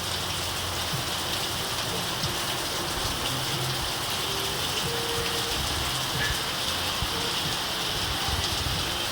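Heavy rain pours down in a steady, dense hiss, falling continuously on surfaces without any voices.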